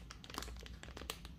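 Plastic packaging of a blind bag being torn open at its rip tab and handled, a close, continuous crinkling and rustling with small sharp crackles throughout, no talking.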